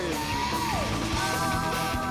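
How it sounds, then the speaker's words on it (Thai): Fans scream and cheer loudly at a Muay Thai knockout-tournament fight in Thailand as a 15-year-old boxer from Udon Thani enters from the blue corner. The roar is continuous and dense, with tonal music threaded through it. "แฟนๆกรี๊ดกันสนั่นกรี๊ดกันสลบดูฮะนี่ยังกรี๊ดก็ไม่หายเลยนะฮะ"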